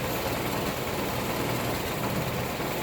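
A motor engine lugging at low RPM while its timing is adjusted, a dense, steady low rumble with a heavy vibrating drone that holds close and constant, no voices over it.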